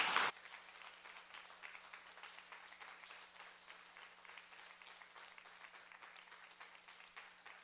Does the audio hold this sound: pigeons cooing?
no